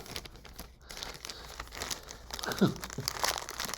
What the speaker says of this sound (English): even when I have the scissors, it's hard to get the bags open